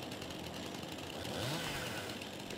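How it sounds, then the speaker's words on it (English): Chainsaw cutting tree branches in Farming Simulator 22, a steady buzzing engine drone that holds throughout with a brief rise in pitch midway, as if bearing into the wood. "get your chainsaw, you crouch down, and when you see gray, you just chop them off."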